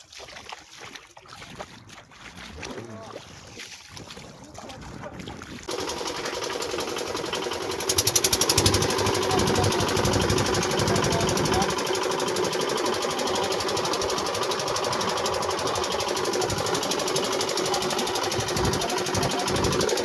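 A fishing trawler's engine on a river chugs in a steady, rapid mechanical rhythm. It starts quieter, then becomes a loud, continuous drone alongside water wash, with no talk over it.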